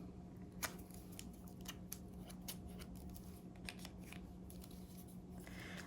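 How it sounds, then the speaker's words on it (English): Quiet metallic clicks and snips from two pairs of scissors being handled, irregularly spaced, over a steady low electrical hum. "So we've got 2 pairs of scissors over here."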